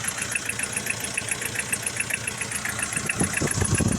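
Close and steady, a motorcycle engine idles while its radiator cooling fan spins, giving an even mechanical drone with a high whirring whine; a few low thumps enter near the end, with no talking.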